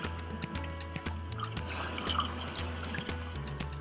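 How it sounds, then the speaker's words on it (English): Water trickling and dripping into a kayak as it fills, a steady run of small splashes and drips heard close up. "And take on a little water."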